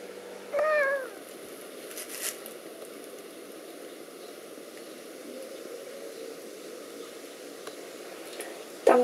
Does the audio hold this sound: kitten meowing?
yes